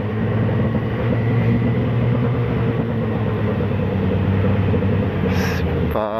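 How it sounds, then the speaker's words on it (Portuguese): A garbage truck passes close on a city street, its heavy diesel rumble and mechanical grind loud and continuous, with a brief hiss of air brakes near the end. "Caminhão de lixo, caminhão de lixo."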